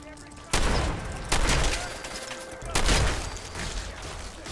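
Game gunfire in Fallout 4, three sharp loud bursts a little over a second apart, each trailing into a noisy decay amid foggy ambience.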